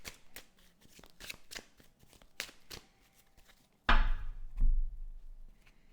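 Oracle cards shuffled by hand for a relationship reading: a run of quick, crisp riffling flicks, then a louder burst of cards slapping and cascading together, close and alone with no talk.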